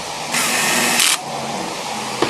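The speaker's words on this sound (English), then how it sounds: "Or not my Dremel, my DeWalt drill with the clutch setting on it. Start all the screws" DeWalt cordless drill with a clutch setting drives screws into a workpiece, a steady close whine in two bursts, the second ending as the clutch slips, with a brief click near the end.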